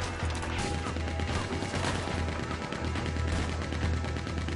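Gunfire in the video game Red Dead Redemption 2, a dense rapid stream of shots and impacts over loud continuous in-game noise.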